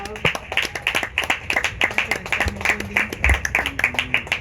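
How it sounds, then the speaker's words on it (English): Audience clapping for Mr. Anuo Collins at a youth governance event, a steady run of sharp handclaps close by across the whole stretch, with a voice speaking over it now and then. "Guys, let's clap for Collins."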